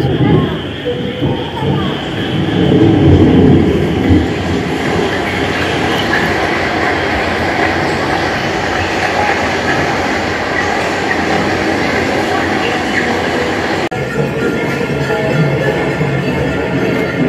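A train runs steadily along the rails at close range, with a continuous rumble and clatter that persists throughout. Near the end the sound briefly shifts, and voices can be heard beneath the noise.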